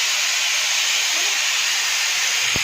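Vegetables tempered in hot oil for a vaghar, a steady broad sizzling hiss that fills the whole moment at close range, with no talk over it.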